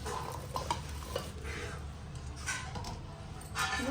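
Veg manchurian fries in a pan, a soft sizzle under light scraping and clinking of a spoon against the pan, with a few louder stirring bursts toward the end.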